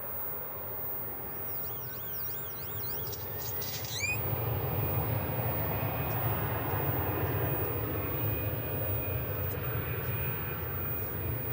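Airliner taking off at DFW Airport, a distant broad roar that swells and holds steady, with a brief warbling tone near the start and no voices.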